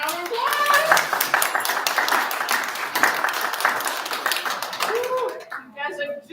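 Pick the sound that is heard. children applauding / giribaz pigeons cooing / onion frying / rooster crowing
children applauding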